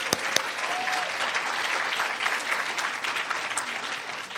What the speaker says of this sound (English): Will you please thank them with your applause?